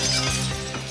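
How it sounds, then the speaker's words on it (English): Glass bursts apart under an amplified sound tone, a loud, bright shattering burst heard close and alone, fading out within about a second. "So the practiced professional can use amplification to smash glass."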